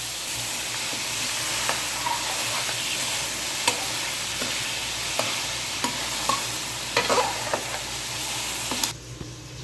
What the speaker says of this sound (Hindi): 3 से 4 मिनट तक हम इसको अच्छी तरह इसमें फ्राई करेंगे।